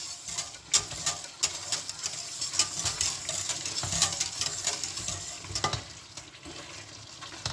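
A pot heats toward a boil for chicken curry noodles, with a steady bubbling, sizzling hiss and a few scattered clinks and taps up close.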